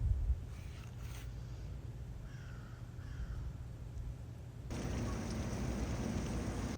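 Steady rain hisses and patters, growing noticeably heavier partway through, while a crow caws a few times in the distance.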